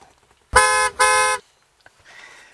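Two loud, sustained blasts from an aftermarket Agile Offroad horn on a Sprinter van, close by, each about half a second, followed by quiet and a fainter tonal sound trailing off at the end.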